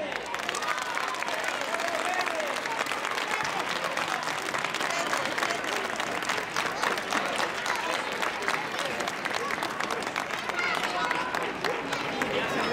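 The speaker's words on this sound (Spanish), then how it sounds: "Un aplauso para Ángel." A carnival crowd in a town square bursts into sustained applause, with loud, dense clapping mixed with crowd murmur and some voices that runs the full length without letting up.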